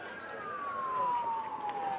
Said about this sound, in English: That's an ambulance, fire truck, police car,